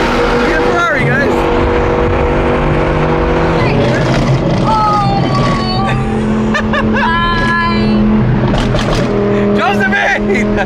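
A straight-piped, tuned Audi R8 revs and accelerates hard, its loud exhaust howling through rising and falling tones with a brief tire squeal, while excited voices talk and shout over it.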